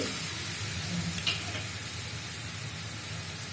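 Fried masala in oil for a mango and prawn curry keeps up a steady, even sizzle and hiss, fairly loud and close, with a faint bump as pieces go in and no talking.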